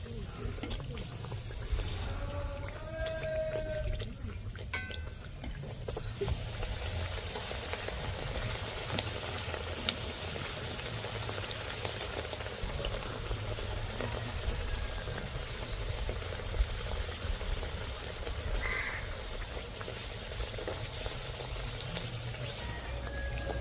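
Pea-filled matar kochuri puff up while frying in hot oil, giving a steady, even sizzle and bubbling that runs throughout. A faint voice talks briefly early on.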